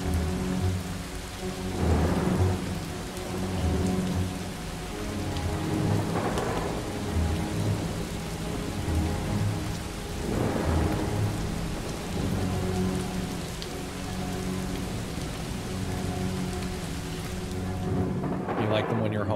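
Heavy rain pours steadily in the video game Far from Noise while deep thunder rumbles roll in several times, each swelling and fading, over a constant low hum.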